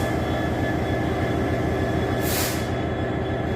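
A freight train in London rumbles past with a steady, dense mechanical roar and a faint high whine, and a brief hiss of air near the end, continuous and moderately loud throughout.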